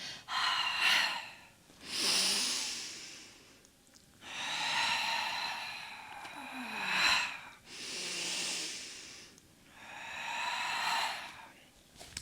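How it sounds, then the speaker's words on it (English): Deep audible breathing during a gyrokinesis exercise, slow alternating inhales and exhales in long airy waves of about two seconds each, close and clear with no talking. "Inhale up. Exhale down. Continue that exhale as you begin the up."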